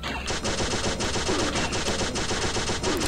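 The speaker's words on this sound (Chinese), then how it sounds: "我们来拿我们的50大机枪" Continuous rapid machine gun fire in the shooter game Pixel Gun 3D, a dense unbroken stream of loud shots with no pause.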